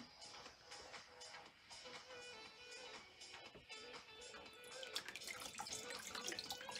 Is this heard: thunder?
no